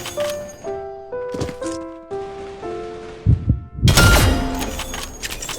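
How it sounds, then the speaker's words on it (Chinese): Heartbeat sound effect in the shooter game CrossFire, triggered by a character paired with a sound card; a few low, dull thumps mixed with tonal game chimes, followed by a loud noisy burst. "这种烟雾挺多的情况，不练师加拳触发的心跳声是有用的"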